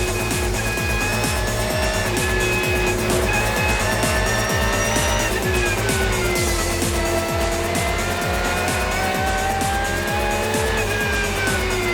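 Ferrari and Falken GT race cars battle at the Nürburgring 24 Hours, a steady roar of racing engines with repeated passing sweeps, shifting pitch and rapid rhythmic pulses, loud and continuous.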